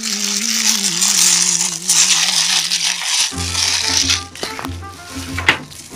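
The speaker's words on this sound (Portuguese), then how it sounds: "Pronto, tirei o plástico." Plastic film crinkles and rustles loudly as it is pulled off a cheap gaming keyboard during an unboxing, with a voice humming or speaking faintly at the start and scattered clicks and crackles toward the end.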